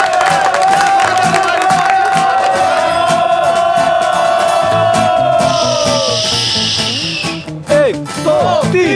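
Cheering and whooping from a crowd at a race, heard close and loud over a sustained wash of music and tones, with shouting voices mixed in throughout.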